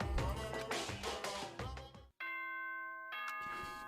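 Announcement chime from the video game Danganronpa rings out clearly after a busy stretch of game music cuts off, a bright two-part ding-dong with sustained bell-like tones.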